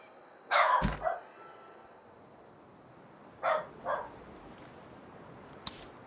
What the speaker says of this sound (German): Da muss sogar der Hund bellen.